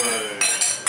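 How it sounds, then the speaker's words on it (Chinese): Glasses clink together in a toast among guests at a home dinner, with three bright, ringing taps in quick succession close by, each decaying briefly. "飲杯先，飲杯先。"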